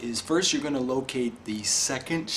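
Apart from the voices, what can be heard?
No everyday noises stand out.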